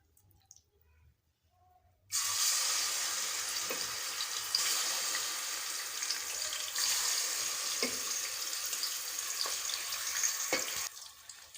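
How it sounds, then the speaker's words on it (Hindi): Marinated chicken hits a pot of browned onions and bursts into loud, continuous sizzling after a quiet start, with occasional clinks of a spoon stirring through the hissing frying. "अब हम इसमें मैरिनेट की हुई चिकन ऐड करेंगे।"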